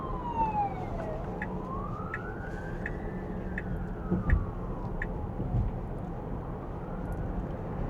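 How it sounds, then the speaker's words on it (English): An ambulance siren wails in slow rising and falling sweeps, somewhat distant, over low road rumble and passing traffic in Australia. "That's an ambulance"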